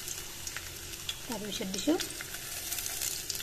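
About 100 grams of hot oil sizzles in a wok with garlic, panch phoron spices and onion, a soft steady hiss with a few stirring scrapes while a person speaks briefly in the middle.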